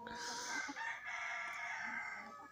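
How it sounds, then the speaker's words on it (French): Hens gathering in the morning make overlapping drawn-out calls and clucks, close and continuous, with a few sharper notes mixed in and no one speaking. "C'est la compagnie de mes poules qui viennent me dire bonjour."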